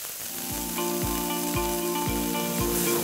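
Carrots fry in a pan with a constant close sizzle and a regular low thump about twice a second, apparently from a utensil stirring against the pan.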